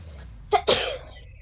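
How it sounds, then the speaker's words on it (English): One sharp sneeze close to the microphone, a quick intake and then an explosive burst, during a tabletop role-playing game session, with quiet room tone around it. "I have to be sorry for sneezing."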